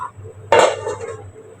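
A lid is set on a cooking pot of duck meat curry, making one sharp metallic clank that rings briefly and fades against a quiet background hum.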